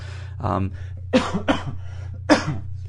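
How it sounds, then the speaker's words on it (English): A person coughs a few times in short bursts close to the microphone, over a steady low electrical hum. "you may hear me cough a little here and there"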